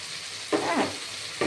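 Mustard paste hits hot oil with fried tomato, giving a sudden loud sizzle and stirring hiss that flares twice, close up, with no voices.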